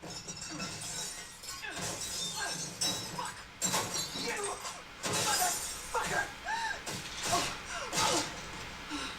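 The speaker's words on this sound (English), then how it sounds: "she's about to rip this cupboard door off" Glass shatters and crashes through a kitchen as a cupboard door is ripped off in a scene from the animated series Invincible, with repeated smashing and clinking bursts under overlapping voices.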